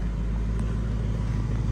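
A 2019 Ford Mustang Bullitt V8 with active exhaust idles close by, a deep steady low rumble that runs throughout the short stretch with no talking.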